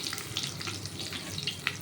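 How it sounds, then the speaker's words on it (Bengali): Chillies fry in mustard oil in a pan, giving a soft, steady crackle and sizzle with small bright pops throughout the short stretch, heard fairly close and without talk. "লঙ্কাগুলো দিয়ে এটা ভাজা ভাজা হবে"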